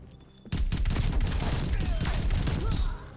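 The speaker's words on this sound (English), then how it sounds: "Shotgun." A shotgun in Call of Duty Black Ops Cold War opens with a sudden loud blast after a quiet start, followed by a sustained roar of gunfire and effects, with a voice briefly audible.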